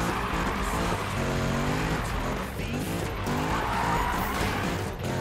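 A car in Need for Speed 2015 skidding with throttle and brake held together, tires squealing over a loud, straining engine roar that holds steady for several seconds.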